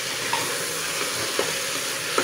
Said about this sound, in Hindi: फिर हम इसमें डाल देंगे बारीक कट किया हुआ टमाटर